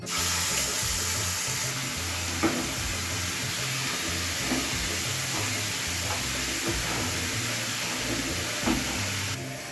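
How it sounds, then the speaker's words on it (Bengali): Mustard paste frying in hot oil with black cumin, salt and turmeric for a Bengali dish, a steady soft hiss and sizzle throughout with faint occasional ticks and pops, no speech. "তেলের মধ্যে সর্ষেটা দিয়ে হালকা কাছে ভেজে নিয়েছি।"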